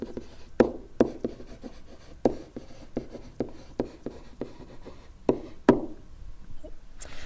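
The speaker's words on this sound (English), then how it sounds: "always takes the pen a little while to start writing" A pen writes on paper during a calculus lesson, giving a close, steady run of crisp taps and short scratches in an uneven rhythm, heard clearly on its own with no talking.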